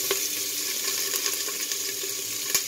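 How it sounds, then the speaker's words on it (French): Small onions sizzling as they brown in a pan for a quick vegan harira, a steady, fairly close frying hiss with faint crackles and a soft clink near the end. "Moi, je vais faire rissoler mes petits oignons."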